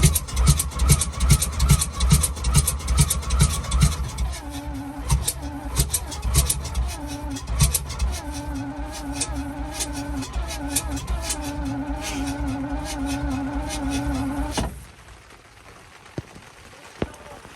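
A long-idle Alvis Stalwart engine cranks after 30 years, a rhythmic heavy churning pulse for several seconds that settles into a rougher mechanical whine and chatter before cutting off abruptly, with voices nearby.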